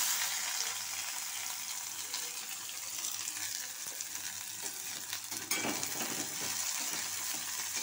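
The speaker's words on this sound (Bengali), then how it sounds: "পেঁয়াজ দেখো, এই যে পেঁয়াজগুলো সব দিয়ে দেবো" Sliced onions frying in oil in a karahi with cumin and chillies, a dense continuous sizzle close by with occasional scraping and clinks as they are stirred.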